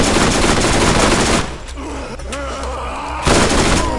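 Rapid automatic machine gun fire in the shooter game Borderlands, a loud dense burst that drops away briefly and then resumes, close and dominant with no speech over it.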